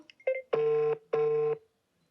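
A telephone call that fails to connect gives a few short faint beeps, then two long steady tones of equal length separated by a brief gap, quiet and alone.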